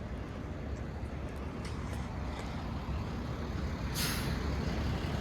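A bus idles at a transit station beside an airport, a low steady engine rumble under a short hiss of air brakes near the end, with no talk.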